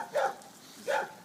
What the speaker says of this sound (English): I love that dog.